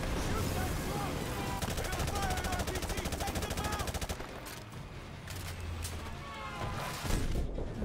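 Rapid automatic gunfire in Call of Duty: Modern Warfare, a dense stream of shots with a fast machine-gun rhythm through the first half, then scattered bursts over loud game noise.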